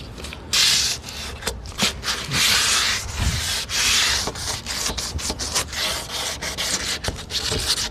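Hand scuffing of a Jeep's body panel before paint: rapid, rough back-and-forth rubbing strokes, loud and close, in irregular bursts with brief pauses between passes.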